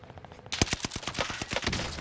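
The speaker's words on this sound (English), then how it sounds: "shooting at me" Rapid gunfire from Call of Duty: Warzone on Fortune's Keep, a quick burst of about a dozen sharp shots in fast rhythm after a quiet half second, alone without talk.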